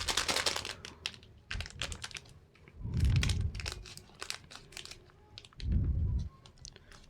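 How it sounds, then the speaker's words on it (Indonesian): A black coffee sachet is torn open with a run of crisp crinkling and ripping bursts of foil packaging, close and fairly quiet, broken by brief pauses. "Langsung kita buka untuk kopinya."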